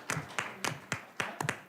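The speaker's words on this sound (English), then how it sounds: "I'm gonna clap for you." A few people clap at a school board of education meeting, with short sharp claps coming in an uneven, sparse rhythm, close and alone in the room.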